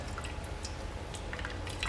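Homemade soy milk drips and trickles from cheesecloth being squeezed by hand, scattered soft wet drops and squishes over a low rumble, close and fairly quiet.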